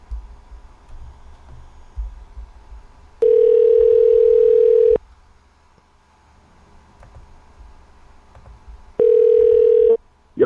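A phone line rings back while a call is placed: two long, loud electronic tones separated by a quiet gap with faint background noise.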